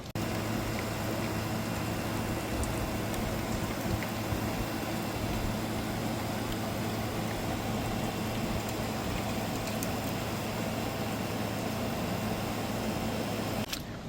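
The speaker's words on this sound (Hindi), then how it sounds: "तो बारिश 2-3 दिन पहले हुई, उसका थोड़ा सा रात का एडिट लगाता हूँ।" Steady, even hiss of rain at night in Canada in summer, falling without a break, a constant wash of drops with a low background hum underneath and no voices.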